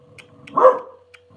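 A dog gives one short, loud, close bark in a quiet room, with a few faint yips around it.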